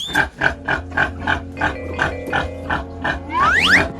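Pig grunting in a series of short rhythmic oinks, close and fairly loud, ending with a couple of higher squeals.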